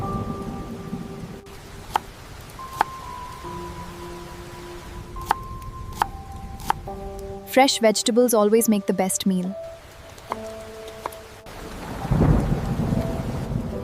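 A thunderstorm with heavy rain outside a small village kitchen, low rumbling and steady hiss beneath a calm spoken voice and soft music, with a louder roll of thunder near the end.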